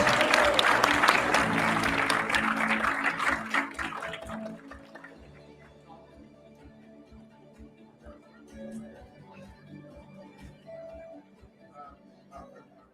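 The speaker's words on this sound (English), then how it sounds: "let's all give Jonathan a huge round of applause" Audience applause at a GDG DevFest Manila 2022 tech conference session, a broad wash of clapping loudest over the first four seconds and then thinning out to scattered claps and room murmur.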